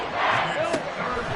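A football stadium crowd roars during a game as a running play ends near midfield, a broad, distant wash of cheering with a commentator's voice talking over it.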